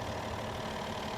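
A Cummins 8.9 liter engine idles in a Freightliner M2 106 truck paired with an Allison 6-speed transmission, a steady, close, continuous low rumble with no talk over it.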